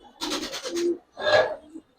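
Giribaz and colored pigeons coo close by in two soft, throaty bursts with a short pause between, with no other sound around them.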